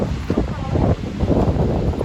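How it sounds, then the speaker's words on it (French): Wind buffets the microphone in a continuous low rumble on a beach in the Algarve, loud and gusty throughout. "désolé il y a du vent là"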